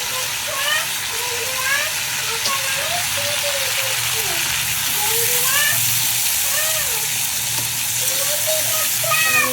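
Onions frying in a pan with whole garam masala give a steady, close broadband sizzle and hiss throughout, with faint voice-like tones drifting in and out beneath it.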